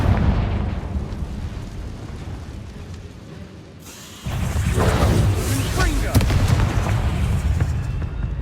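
Confringo spells fired in Hogwarts Legacy set off a loud game explosion, a sudden dense blast that jumps up over a rumbling battle bed and stays sustained and booming to the end.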